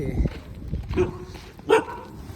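A few sharp dog barks ring out at a moderate distance around Diu Fort, spaced irregularly amid light background noise.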